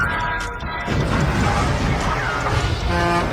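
Sound effect of a truck horn honking amid a loud, busy crash of noise, with blaring horn tones standing out near the end.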